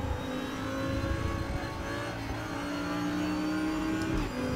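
An Audi R8 LMS GT4 2020 race car engine in the RaceRoom sim drones and revs steadily at racing speed, its pitch sweeping gradually with a brief dip near the end, loud and continuous with no talk over it.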